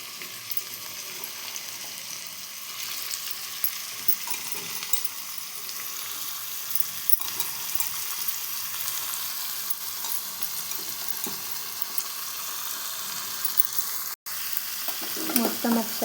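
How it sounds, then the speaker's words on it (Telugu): Cut ridge gourd frying in a pan makes a continuous close hiss and crackle with scattered stirring sounds, steady throughout apart from a momentary dropout near the end, with no talking. "కట్ చేసిన బీరకాయ మొత్తం యాడ్ చేసేస్తున్నాను."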